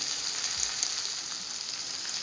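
Boiled green peas and tomato go into a hot pan for a cauliflower and potato curry, producing a steady, close, even sizzling hiss that holds throughout without talk.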